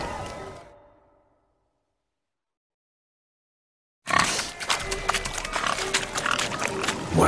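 Pigs grunt and oink in The Witcher 3 during a swineherd race game, a busy burst of animal squeals, hoof clatter and movement after a short silent gap, with music-like tones underneath.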